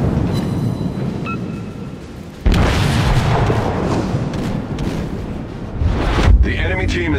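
A heavy warship cannon boom in World of Warships hits suddenly, followed by rumbling blasts and crackle, with a voice talking over the noise.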